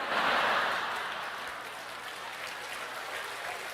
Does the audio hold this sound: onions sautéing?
no